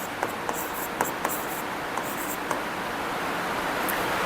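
Pen writing a library catalogue entry on paper, a soft continuous scratch with a few light tapping strokes over steady background hiss.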